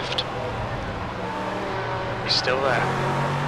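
Race car passing on the left during a Le Mans endurance race, a brief engine roar swelling by close under a radio-style voice giving spotter calls.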